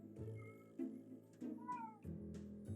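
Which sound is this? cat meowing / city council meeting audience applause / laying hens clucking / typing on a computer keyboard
cat meowing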